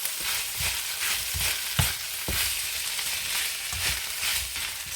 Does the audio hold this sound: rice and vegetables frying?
yes